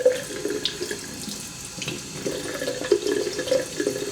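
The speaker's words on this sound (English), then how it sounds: "You can just run water over that." Tap water running over a brushless hobby motor, a steady close splashing trickle with irregular bubbling and spattering as the stream hits the metal.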